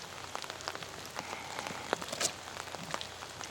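Rain patters steadily on a golf course during the final round of an amateur disc golf event, a dense hiss of drops with scattered louder taps, no voices.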